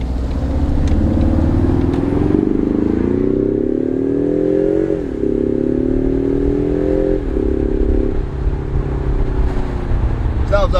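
A 2020 Ford Mustang EcoBoost Premium convertible in Sport Plus mode with manual shifting accelerates hard. The engine note climbs loudly, drops briefly at two gear changes, then rises again.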